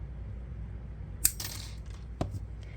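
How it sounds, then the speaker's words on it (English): A wire-bound notebook's metal binding wire is snipped with a quick cutting click, followed by a second softer click about a second later, both brief and close in a quiet room. "I'm going to cut the wire that's holding the 5th one."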